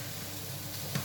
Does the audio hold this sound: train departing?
no